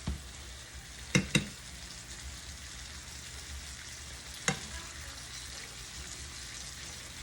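Steak sauce frying in a hot pan gives a steady, fairly quiet sizzle throughout, broken by a few sharp clicks and clatters as the pan is tilted, with no talking.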